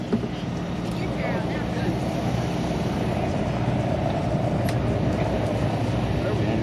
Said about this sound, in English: That is one of the most distinctive sounds of any radial engine airplane that's around.